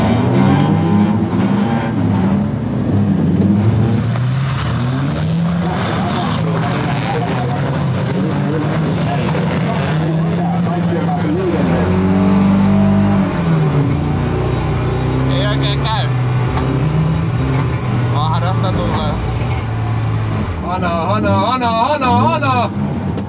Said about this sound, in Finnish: Lada alkoi käymään vähän vajaa